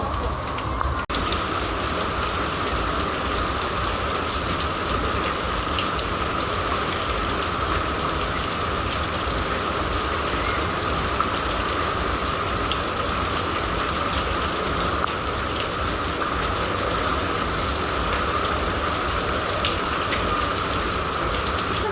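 Steady, heavy rain pours without a break, a dense hiss of drops drumming on surfaces close by.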